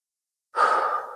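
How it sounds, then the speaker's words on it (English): A single deep breath drawn in during a gentle hamstring stretch, a soft airy rush that swells quickly and then slowly fades, close to the listener and heard alone. "doing some deep breathing"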